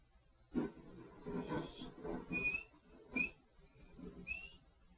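Several short, high whistle notes, some rising, from a practice horse whistle in Skyrim, over soft background noise and low murmuring sounds, fairly faint overall.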